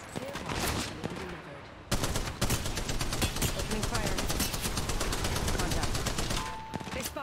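Rapid automatic gunfire from a mobile battle royale shooter, Apex Legends Mobile, with dense sustained bursts rattling almost continuously for several seconds, loud and close, broken by a brief pause before resuming.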